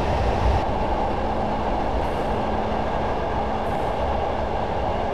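A Class 111 diesel multiple unit in Train Simulator 2015 on the Dumfries to Kirkcudbright line, coasting downhill with power idled: a loud steady rumble of wheels and carriage noise with a low droning hum, continuous throughout.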